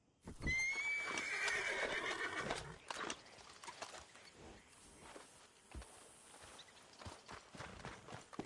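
A horse in the video game Red Dead Redemption 2 gives a loud, close whinny, then its hooves clip-clop on the ground with scattered footsteps that continue more quietly.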